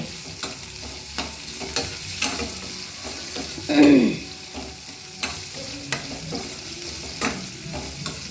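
Capsicum, beans, carrot and onion frying in a pan, a continuous close sizzle broken by regular spatula scrapes and one louder stirring sweep near the middle, with no talking.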